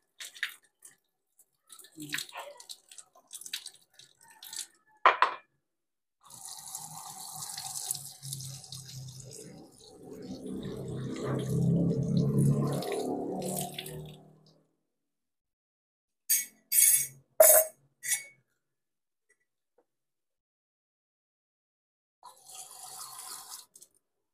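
Sweet basil leaves are rinsed under running tap water in a sink, with splashing and trickling, a few short clinks and drips, and quiet pauses between. The sound is faint and close, with no voices.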